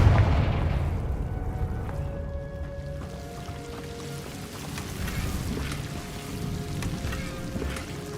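In a wizarding video game, a Confringo blasting spell goes off as a muffled low boom that fades into a long rumble under soft musical tones.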